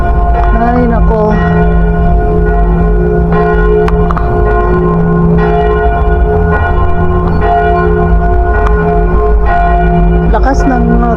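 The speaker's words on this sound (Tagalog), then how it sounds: "lakas ng tunog ng bell, kampana" A church bell rings loudly and close outside a Filipino town church, its ringing tones sustaining continuously over a busy crowd and street bustle.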